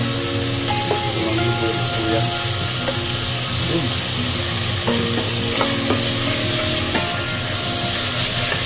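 Onion and ginger stir-fried in a pan for a chicken sotanghon dish, a steady loud sizzle throughout with scattered scraping and clicking of the utensil against the pan, no talking.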